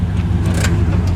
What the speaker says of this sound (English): Go ahead, give it a rev.